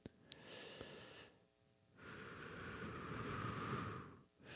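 A voice imitates heavy breathing with two long, loud, airy breaths separated by a short pause, rushing and close up with no words spoken.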